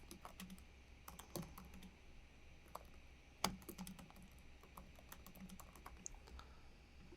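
Computer keyboard being typed on to write a blog comment, a quiet run of irregular close clicks and taps with a few louder keystrokes, no voices.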